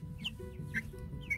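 An F1 Rhode Island Red chicken gives three short, separate clucks, close and fairly soft over a low background rumble.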